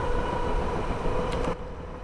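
Class 319 electric train running in Train Simulator 2014, a loud steady rumble with a constant whine, a few brief clicks near the end, then the sound drops sharply and the level falls.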